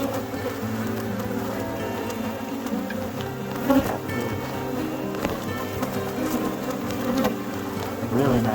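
Dense steady buzzing of many honeybees from a packed overwintered beehive during a post-split inspection, a close continuous hum running the whole time with no talk over it.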